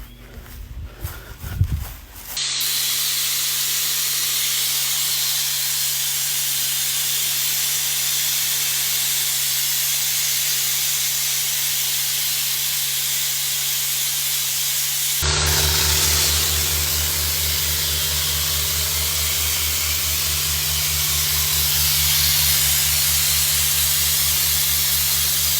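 Sandblasting paint off a driveway in Port Charlotte, Florida: a loud, steady roaring hiss of the blast hose runs continuously after a brief handling noise, with the compressor drone underneath and a slight shift midway.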